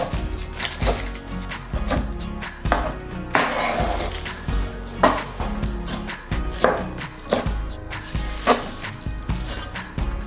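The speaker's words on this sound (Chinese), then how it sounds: "把高麗菜切碎。" A knife chops cabbage on a cutting board in rapid, uneven bursts of crisp, close-up thuds, some strokes louder than others, with no talking.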